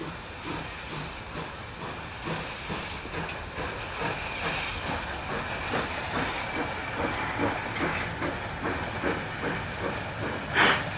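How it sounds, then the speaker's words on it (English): French steam locomotive 241A65 releasing steam, a continuous loud hiss with rhythmic chuffing pulses and faint rail clatter beneath, steady throughout and fairly close. "The French engine displayed such wonderful steam output."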